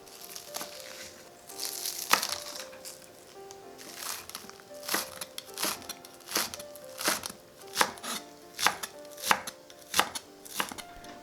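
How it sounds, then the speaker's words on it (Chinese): Knife chopping green onion leaves on a board, a fast, steady run of crisp chops that grows more regular and punchy toward the end, close and alone with no talking. "准备一些葱叶切碎"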